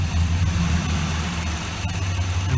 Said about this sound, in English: then the engine should stumble, and that'll give me a good indication of where my problem is